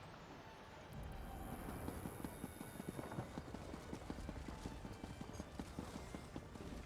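A horse in the High Isle video game clip-clops along at a steady trotting rhythm, quiet but distinct, with a soft ambient background.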